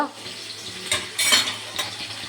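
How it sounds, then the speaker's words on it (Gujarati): Kadhi tempering crackles in ghee over a sustained frying hiss, with short bursts of spattering and light metallic clinks of a ladle against the pan, no talking. "આપણી રાઈ તતડી ગઈ છે અને આ બાજુ કઢીનો વઘાર થાય છે"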